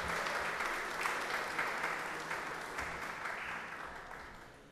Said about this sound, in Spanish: nosotros saludamos a ellos con un fuerte aplauso para nuestros